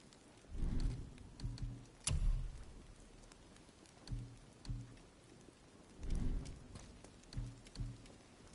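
Rain falling in the video game God of War, a soft steady patter with low rumbling swells like distant thunder rolling in now and then, faint and with no talking.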